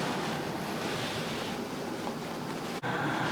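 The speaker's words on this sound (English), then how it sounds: "once this boils, lower the heat, then cover. Let this simmer for about 45 minutes." A pot of chicken in coconut milk simmers on the stove, giving a steady, dense bubbling hiss with a brief dip near the end.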